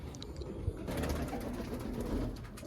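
Pigeons of fancy breeds, adults kept with their young, coo steadily in a loft, a dense overlapping murmur of calls that swells and stays close throughout, with no talking.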